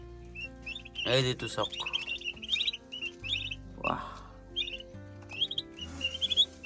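Layer chicks cheep in a brooding pen holding about two hundred birds, their high chirps steady and nearby. Someone speaks over them, and low grunting sounds come through as well.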